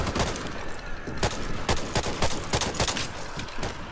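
Rapid gunfire sounds while shooting zombies in the video game Back 4 Blood, with dense, continuous bursts of loud shots at an uneven rapid rhythm, close and dominant throughout.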